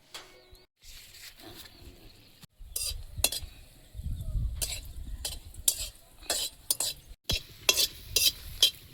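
Dried red chillies fry in a pan, heard as scattered stirring scrapes and clinks with bursts of sizzle that grow busier toward the end, close and fairly quiet, without speech.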